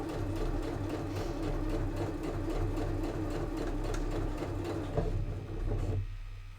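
A sewing machine stitches an elastic pen holder onto an A5 notebook cover with a steady, rapid mechanical whir, easing off near the end.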